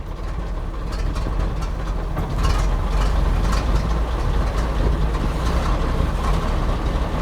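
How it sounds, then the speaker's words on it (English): A car engine runs steadily just after being started through the magneto and starter, a loud, continuous low rumble that holds for several seconds with no voices over it. "Voila, running car."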